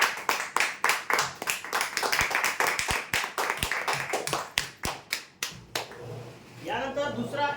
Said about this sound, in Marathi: जोरदार टाळ्या होत्या यासाठी